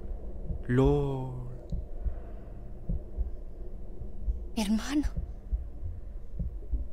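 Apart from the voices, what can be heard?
heartbeat sound effect in the video game Beyond Two Souls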